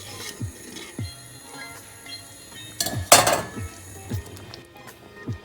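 A spoon stirs boiling boba pearls with ginger slices in a pot, giving repeated scraping clinks against the metal at a slow, irregular pace, with one sharper clatter midway, close and alone without talk.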